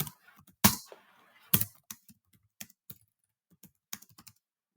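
Someone types a message on a computer keyboard with irregular key clicks close to the microphone, including a few louder strikes among lighter taps and brief pauses, with no talking.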